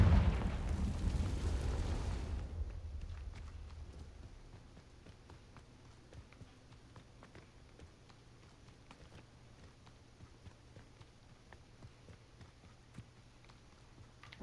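A Confringo fire-blast spell in Hogwarts Legacy erupts as a loud, booming burst in the first couple of seconds, then fades to a quiet game ambience with faint scattered ticks.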